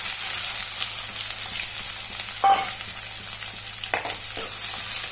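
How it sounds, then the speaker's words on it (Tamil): Steady sizzling of sliced onions frying in hot oil for a dried fish curry, continuous and close, with a few scraping stirs of a utensil near the middle and end. "சேர்த்துட்டு நல்லா கொஞ்சம் வதங்கி வரட்டும் வெங்காயம்"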